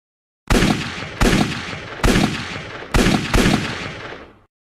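Toy war scene with Lego figures and a machine gunner: five loud, sharp bursts of machine-gun fire in quick succession, each with a short ringing decay, close and alone with no talk.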